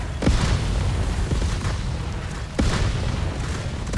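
Video game explosions rumble in deep, continuous booms with a few sharper blasts standing out, loud and dense across the whole stretch.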